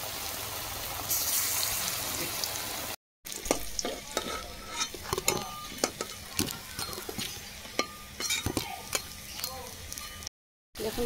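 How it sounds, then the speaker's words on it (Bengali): Pieces of taro (kochu) frying in hot oil give a steady close sizzle with repeated sharp stirring clicks and scrapes, broken by two brief drops to silence. "বাকি কচুগুলো এইভাবে ভেজে নেব।"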